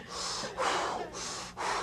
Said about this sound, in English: And start breathing deep.